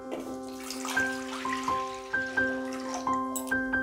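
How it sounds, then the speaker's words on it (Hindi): Water is poured into a heated clay pot while making horse gram dal, a close gurgling stream with rising, ringing resonant tones as the pot fills, and no talk over it. "इससे हम मिट्टी का बर्तन गरम करेंगे और उसमें हम 2 ग्लास के इतना पानी डालेंगे।"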